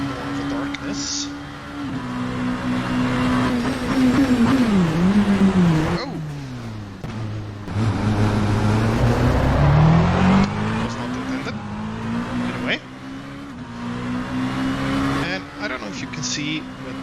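A race car laps a track in the Assetto Corsa driving game, its engine rising and falling through gear changes with some tire noise, loud and continuous throughout.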